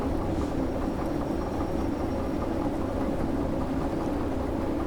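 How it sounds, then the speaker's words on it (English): A locomotive in the Derail Valley train simulator braking to a stop, a steady loud low rumble of wheels and engine with a faint high squeal of brakes, continuous and alone without talk. "And I think stopping the train here will do nicely. So please, on the brakes."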